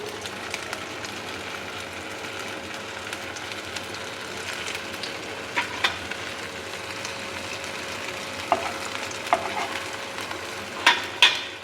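Aloo tikki potato patties shallow-fry in a pan of oil, a steady low sizzle with scattered light clicks and taps that grow a little busier toward the end, no speech.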